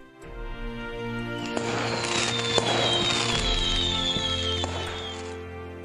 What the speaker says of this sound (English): As the colorful fireworks lit up the sky over New York City